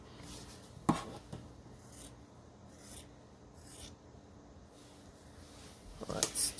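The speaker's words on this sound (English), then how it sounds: "I'm just going to cut until the two meet." Scissors cutting through a T-shirt to make a tote bag: several separate snips and rough rubbing strokes, close and moderate, over steady background noise with a louder cluster of cuts at the end.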